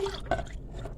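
A brief, soft liquid splash and trickle as milk is poured into a cup, faint and close, lasting about a second.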